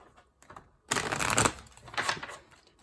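Tarot cards are shuffled close by: a brief rustle, then a dense riffling burst and a second, shorter flurry, with no voices.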